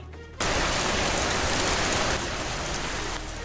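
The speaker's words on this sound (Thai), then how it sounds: "ฝนตกกระหน่ำจนพื้นแฉะไปหมด" Heavy rain pours down in a dense, continuous roar that starts abruptly and stays loud throughout.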